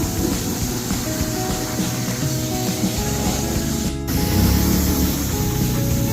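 A steady, loud spray of degreaser hisses onto car trim to lift the old oil, with one brief break near the end before the spraying resumes.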